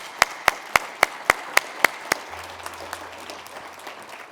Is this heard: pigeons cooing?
no